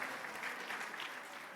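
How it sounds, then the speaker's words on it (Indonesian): Audience applause at a pastors conference in Indonesia, a faint, steady wash of many hands clapping together from a crowd. "Tepuk tangan dulu untuk Tuhan Yesus."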